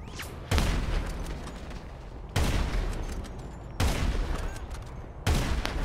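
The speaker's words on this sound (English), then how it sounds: "people are shooting at me." Gunfire in GTA: four heavy booming blasts spaced about one and a half seconds apart, each followed by a rumbling decay, moderately loud and close.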